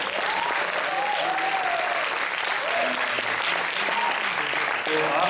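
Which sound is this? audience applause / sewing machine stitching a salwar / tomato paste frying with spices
audience applause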